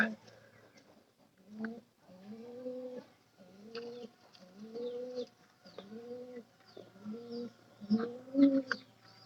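Domestic pigeons coo nearby at their nest with newly hatched chicks, a series of soft, throaty, repeated calls, about seven in a row with short pauses between.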